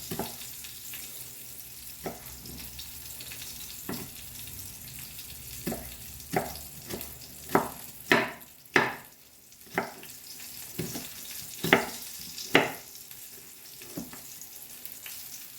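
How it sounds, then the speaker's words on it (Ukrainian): Chopped onion frying in oil in a skillet that had just been used for frying fish, a steady close sizzle broken by sharp scraping clacks of stirring, with some running water heard alongside. "Це масло в цю сковорідку, де жарилась риба, додаю цибульку, додаю, щоб підсмажилася."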